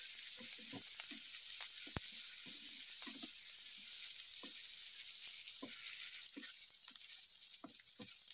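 Dried coconut, tomato, ginger, garlic and coriander sautéing in a pan, a steady soft sizzle with occasional clinks of a spoon stirring, close and alone without talk.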